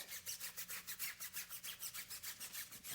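A stiff tire brush scrubs a rubber tire's sidewall and ribbing in quick, even back-and-forth strokes, a close, rhythmic bristly rasping of roughly six strokes per second with no talking.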